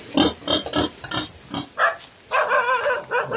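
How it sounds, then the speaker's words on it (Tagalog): A pet pig in its pen on a rural farm gives a series of short, rough grunts and snorts, several bursts in irregular rhythm, close and fairly loud with no talk over them. "Meron din siya dito ng alagang baboy."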